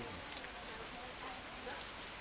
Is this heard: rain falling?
yes